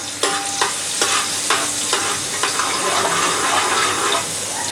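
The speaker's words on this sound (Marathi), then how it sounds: "आता फक्त लसणावरती आपण ही फोडणी दिलेली आहे तेलामध्ये व्यवस्थित परतून घ्यायचं आहे" Garlic tempering sizzles steadily in hot oil while a spoon stirs and scrapes the pan in repeated strokes, close and loud, with no talk.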